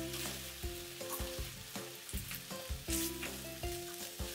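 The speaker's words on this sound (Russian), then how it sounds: "Затем добавляю лук и обжариваю еще несколько минут," Onion and beef fry over high heat for a Georgian-style chanakhi stew, giving a steady close crackling sizzle broken by repeated stirring scrapes, fairly quiet overall, with no voices.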